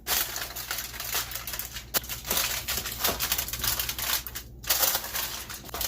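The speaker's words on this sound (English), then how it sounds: "we're going to throw some aluminum foil on this bad boy" Aluminum foil crinkles and crackles close by as it is laid over BBQ spareribs, in a run of uneven rustles and crisp crumpling bursts.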